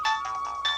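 A mobile phone ringtone plays as a bright, repeating electronic melody in short bursts, clear and close, with no voices over it.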